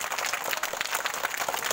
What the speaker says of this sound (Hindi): ताली बजाओ सारे इंसानों के लिए